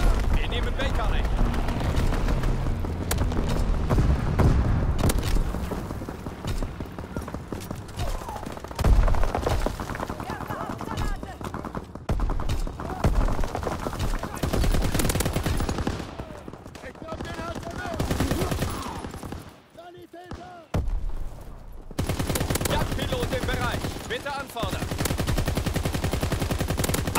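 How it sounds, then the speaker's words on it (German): Dense World War II battle in the Call of Duty WWII video game: rapid machine-gun bursts, gunshots and booming artillery fire rage almost nonstop, with shouted voices and radio callouts over the din. "Feuer aus allen Rohren!"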